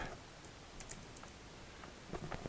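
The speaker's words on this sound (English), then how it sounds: "so I started typing in line 2" Typing on a computer keyboard, a quick run of light key clicks at close range with no talking.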